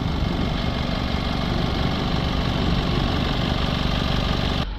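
A Honda CR-V engine idling steadily during blocked-DPF cleaning, a close, even mechanical hum with fine vibration that continues unchanged before cutting off at the very end.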